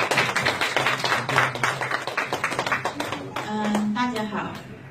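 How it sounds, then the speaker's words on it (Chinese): A small audience claps scattered, uneven applause to welcome a kidney patient at a testimonial gathering, with voices talking over the clapping throughout. "来掌声一下伊琳"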